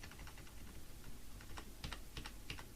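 Arrow keys on a computer keyboard pressed in a quick series of sharp plastic clicks, close and fairly soft over a low steady room hum, with no talking.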